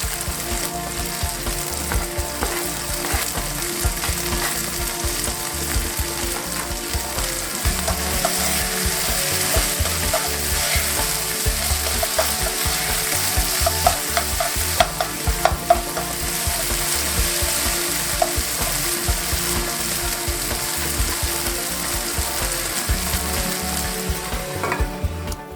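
Beef and ginger stir-fry in a hot pan, with a constant loud sizzle and the scrape and clatter of stirring throughout, no voices.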